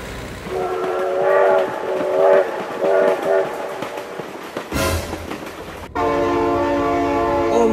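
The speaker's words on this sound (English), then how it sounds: "Oh my God, train!" A train passes close by and loud, its horn blaring in several repeated harmonic blasts and then one long sustained blast at the end, over rumbling rail noise.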